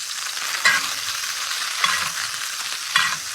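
Butter melting and browning at the edge of a pan beside a rib steak, giving a steady close sizzle with three brief louder spits spaced about a second apart.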